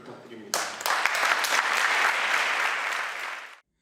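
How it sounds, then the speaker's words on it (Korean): A large crowd at a naval academy graduation celebration breaks into loud, sustained applause after a short pause, clapping steadily for about three seconds before it cuts off abruptly. "격려의 큰 박수를 부탁드립니다"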